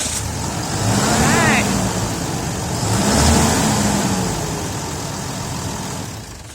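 A 2012 Dodge pickup's 6.7 Cummins diesel cranks and catches, its engine note swelling twice before settling into a steady, close idle, with people talking over it.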